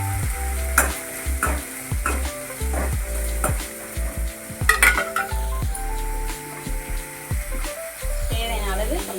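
Tomato, green chili and curry leaves sautéing for mutton curry, a steady sizzle under repeated scraping stirs and clinks of a spoon against the pan, with a person talking over it throughout.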